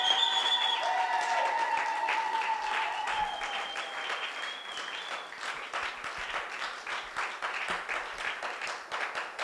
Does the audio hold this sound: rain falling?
no